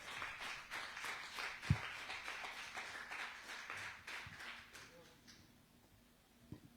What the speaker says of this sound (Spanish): ¿Cuánto le dan una ofrenda de palmas al Señor Jesucristo?